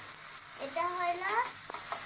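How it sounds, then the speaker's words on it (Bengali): Bata fish sizzling in hot oil in a pan, a steady close frying hiss throughout with a brief soft voice in the middle. "মাছ, বাটা মাছ। মাছ ভাজবো।"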